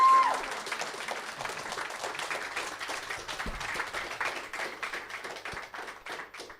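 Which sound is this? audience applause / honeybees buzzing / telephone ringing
audience applause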